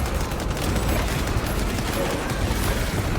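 Bolter gunfire in the video game Space Marine 2, a dense, continuous fusillade of rapid shots mowing down a row of enemies, loud and unbroken for the whole stretch.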